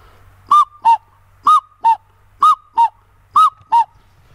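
Handheld bird lure whistle imitating a cuckoo: four clean two-note 'cu-coo' calls, the second note slightly lower, spaced about a second apart, loud and close against near silence.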